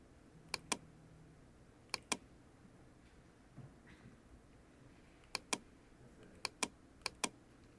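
Computer keyboard keys pressed in scattered sharp clicks, some in quick pairs, about a dozen strokes over a quiet room background with no talk.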